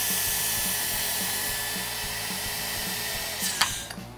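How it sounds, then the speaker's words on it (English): A motorized vacuum steadily extracting air from a sealed vacuum storage bag, a loud continuous whine with a pulsing rattle underneath that sputters briefly near the end. "the next thing we're going to do is we're going to extract the air from it."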